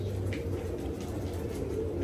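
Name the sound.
pigeon cooing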